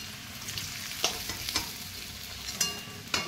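Potatoes fry in hot oil with a faint, steady sizzle, broken by a few sharp spatters and utensil clicks.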